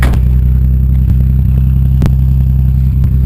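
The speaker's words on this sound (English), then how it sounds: "Warming up, idling at 1200, so fast idle's going." A Toyota Supra engine idles steadily on fast idle at 1200 rpm while warming up, with a deep, even rumble and a few faint clicks and knocks, close by and with no talking.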